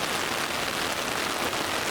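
Steady rain falling on an outdoor golf course during a disc golf round, a dense, even hiss with no talk over it.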